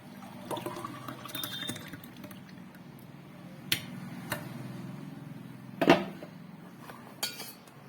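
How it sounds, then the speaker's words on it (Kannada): Sapota juice is poured into a glass, faint liquid trickling with a few light clinks of glass and utensils against a quiet background, no speech. "ಈಗ ಗ್ಲಾಸ್ಗೆ ಸರ್ವ್ ಮಾಡ್ಕೋತಾ ಇದ್ದೀನಿ ನಾನು"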